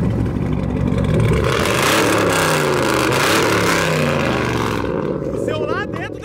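A sports car exhaust, a Porsche or a Camaro, revs loudly in repeated rising and falling sweeps, with a throaty roar close by. Voices are present near the end.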